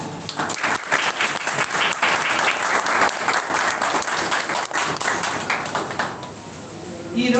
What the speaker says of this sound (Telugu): first of all give him a big clap